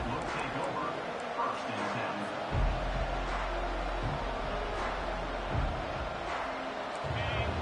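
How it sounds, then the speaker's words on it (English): A large football stadium crowd at a Michigan Wolverines versus Nebraska game roars in a dense, sustained wall of cheering, with a commentator talking over it throughout. "This crowd trying to show them what it's going to be like all day in this house."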